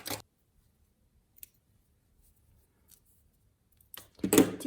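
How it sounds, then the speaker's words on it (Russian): Scissors snipping crochet thread while finishing a crocheted tunic, a soft close snip near the start and a louder rustle and cut at the end, with near silence and faint handling clicks between. "Здесь я закрепляю ниточку и ее обрезаю."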